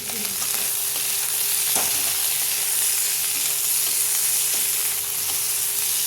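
Chopped tomato and green chilli with a pinch of turmeric fry in a pan, a steady close sizzle with a few soft stirring knocks and no talking.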